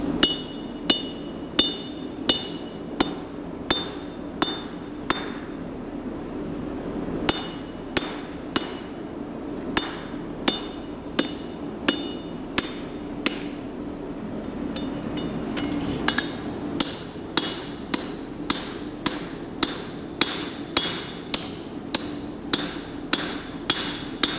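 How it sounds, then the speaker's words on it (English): A forged knife blade, held in tongs, is hammered back down along its profile, giving steady, ringing metallic strikes close by, about two per second, with brief pauses before the rhythm resumes. "To crack the swoop, we just hammer back down on the profile."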